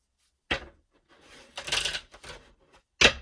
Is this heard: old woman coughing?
no